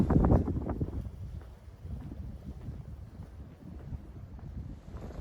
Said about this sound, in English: And the wind is beginning as well.